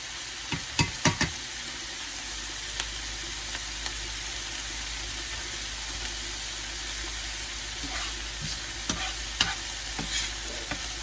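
Filipino chicken adobo fries and sizzles steadily in a pan, with a spoon clinking and scraping now and then as it is stirred.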